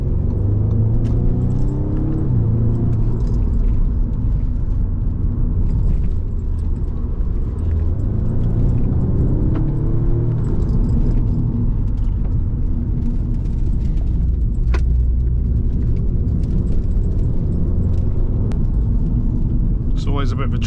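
An Audi S3 on twisty country lanes, its engine rumbling steadily with road noise throughout, close and loud, as someone talks over it.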